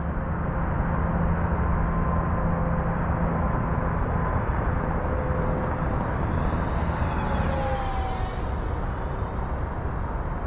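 An Xfly SU-57 twin 40mm EDF RC jet flies at about half throttle, giving a continuous loud ducted-fan whoosh and whine that shifts slightly in pitch as it passes overhead.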